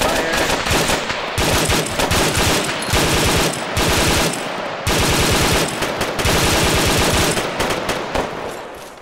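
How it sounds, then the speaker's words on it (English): Sustained suppressive machine-gun fire in the Arma 3 military shooter, rapid bursts of loud automatic shots rattling almost continuously with brief pauses between volleys, close and dominant. "Suppressive fire."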